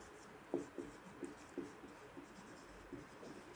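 A pen scratches softly across paper in short rhythmic strokes, faint and close with a quiet background.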